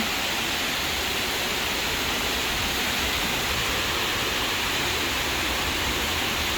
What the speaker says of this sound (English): We can't see it, but man, we can hear it. It must be some big waves coming in.